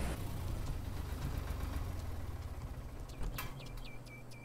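A tractor engine idles in the farming game Farmer's Dynasty, a steady low throbbing rumble that holds level throughout, with a few faint high chirps near the end.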